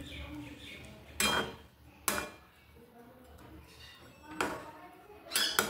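Doi potol with garam masala being stirred in a pan: a few sharp metallic clanks and scrapes of a spoon against the pan, spaced irregularly over a quiet room background.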